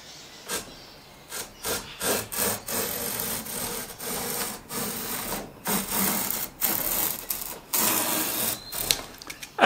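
A Melbourne Tool Company low-angle jack hand plane takes thick shavings off wood in a run of close, rasping strokes, each a short swish separated by brief gaps, with no talk.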